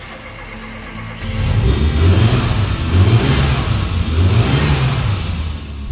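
An MG Metro fitted with a Mini Cooper engine and big valve head starts up and revs, a steady close-up engine note rising and falling in several throttle blips with no talk over it.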